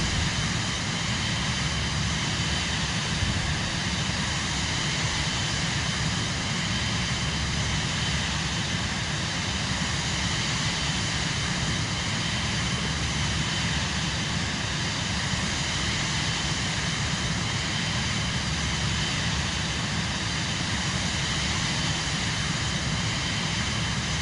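A steady, unbroken aircraft engine drone from Microsoft Flight Simulator 2024 holds at a constant loud level, a broadband roar with a low hum and no pauses.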